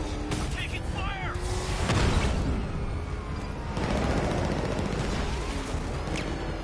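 Sustained gunfire and explosive booms in the video game Batman: Arkham Knight on PS4, dense overlapping bursts over continuous battle noise, with game voices shouting beneath.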